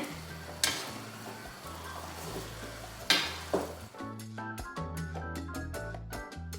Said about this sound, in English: to give this a quick stir so everything mixes in